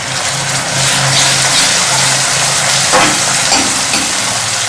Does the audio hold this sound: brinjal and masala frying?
yes